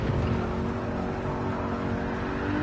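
A Lexus LC500 engine in the racing game Gran Turismo 7 holds a steady, loud, close drone, running continuously with no voices over it.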